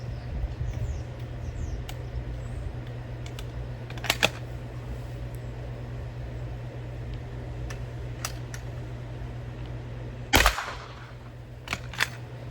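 Sharp, fairly quiet shots from a Western Field bolt-action .410 shotgun firing garden loads of short 44 Colt brass, a few spaced single cracks over steady background hum, one louder report near the end.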